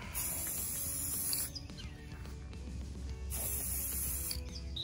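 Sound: spray paint can spraying paint onto a planter

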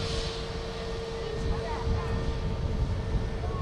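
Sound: EasyJet Airbus A320neo at Manchester Airport

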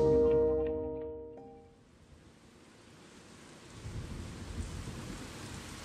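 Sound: heavy rain and thunderstorm

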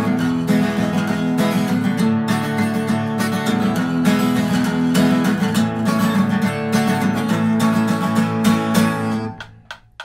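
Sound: guitar playing a song's chorus at full speed

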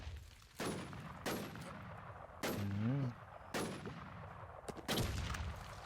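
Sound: gunfire in a shooter video game

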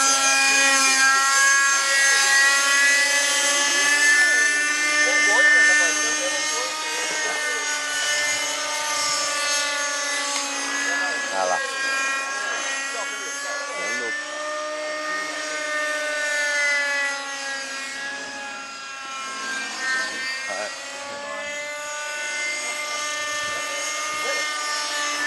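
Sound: radio-controlled model airplane engine in flight

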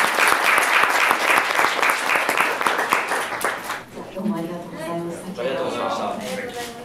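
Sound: audience applause

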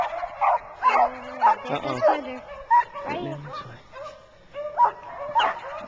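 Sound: hunting dogs barking on a rabbit hunt

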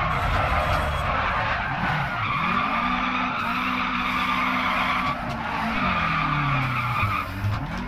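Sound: Lancia Fulvia HF car skidding in video game Dirt Rally

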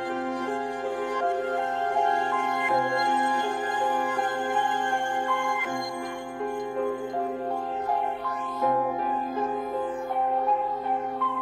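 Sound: synth melody for aggressive beat made in FL Studio

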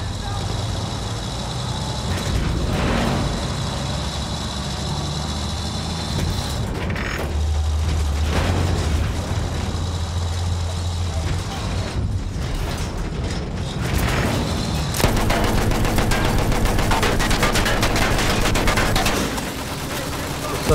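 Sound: explosion and gunfire in the video game Battlefield 1

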